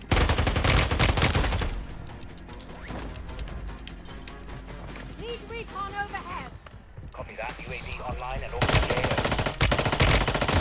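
Rapid automatic gunfire and scattered shots from the mobile shooter game Warzone Mobile, loud and dense at the start and end with bursts throughout, mixed with game sounds and effects.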